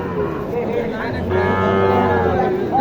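A single long, loud moo from cattle at Mataji cow market in Naogaon, where Sahiwal heifers are sold, rising clearly above faint market background noise.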